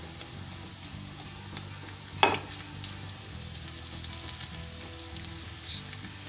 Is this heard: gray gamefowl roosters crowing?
no